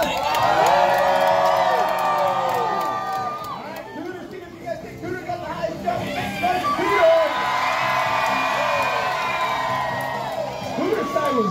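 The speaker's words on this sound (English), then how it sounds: "make some noise for Bubba" A crowd at a jumping contest cheers, whoops and shouts loudly and continuously, with children's voices among the yelling. The noise dips briefly partway through before swelling again.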